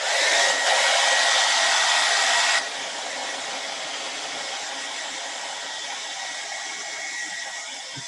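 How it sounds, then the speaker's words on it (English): A hair dryer blows on a painting, first a loud, close whooshing roar, then after about two and a half seconds a softer, steady airflow as the setting or distance changes, with no talking. "I'm gonna go ahead and hit it with my hairdryer again"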